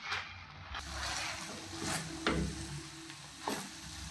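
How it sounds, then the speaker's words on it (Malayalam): Vegetable biryani is stirred in a pot after lemon juice is added, the spoon scraping in several distinct strokes over a low, steady sizzle. "നന്നായിട്ടൊന്ന് ഇളക്കി യോജിപ്പിക്കാം"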